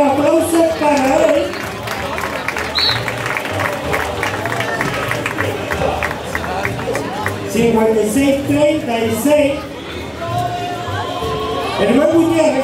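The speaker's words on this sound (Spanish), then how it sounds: "Fuerte aplauso para él." A large crowd at a Canary Islands cattle-dragging event in La Laguna, Tenerife claps and chatters continuously, a dense wash of applause and voices under an announcer's talk.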